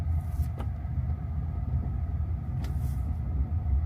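A Tesla rolls along a gravel road, heard from inside as a steady low rumble of tires on loose stones with a couple of brief sharper crunches or clunks.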